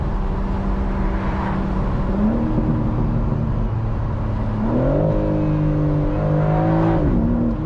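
A 2025 BMW M4 Competition Convertible with ZF Steptronic automatic gearbox accelerating hard from inside the cabin, engine droning loud and steady as revs climb, with quick upshifts dropping the pitch before it rises again.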